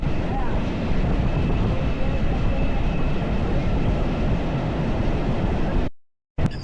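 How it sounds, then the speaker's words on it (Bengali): Steady rumble and rattle of a moving passenger train in Bangladesh heard from inside a carriage, continuous and fairly loud, with faint voices underneath before it cuts out. "আমি এখন ট্রেনে উঠে পড়লাম"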